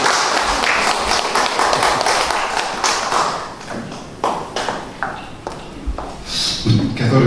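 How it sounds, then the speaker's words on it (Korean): Scattered audience clapping at a book talk welcoming an author, uneven and fairly close, with individual claps and some background murmur, thinning out toward the end. "자, 박수로 맞이하겠습니다."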